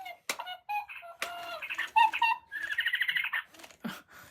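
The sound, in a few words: Spin Master interactive Hedwig owl toy making sounds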